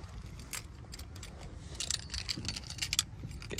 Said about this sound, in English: Get two keys, switchblade key.